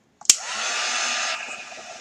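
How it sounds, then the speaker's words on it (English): After a small click, a heat tool switches on and blows a steady, close whooshing stream of hot air, dropping slightly in strength near the end. "I'm going to use my heat tool to dry it to speed up the process a little bit, so this may be a little noisy."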